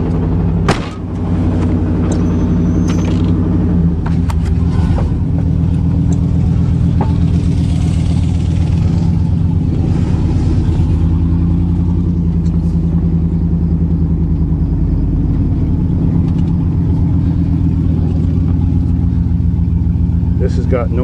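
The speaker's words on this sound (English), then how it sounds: "Oh, it's just my Chevy 305. Wait till the oil gets warm. You'll hear her knocking." A Chevy 305 V8 idles and rumbles close by for a long stretch, a low steady drone with slight unevenness, while a person talks over it now and then.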